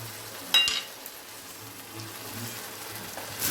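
Shakshuka with tomatoes cooks in a pan, a soft, steady frying sizzle that starts with a brief sharp clack of a utensil, heard close and quiet without any talking.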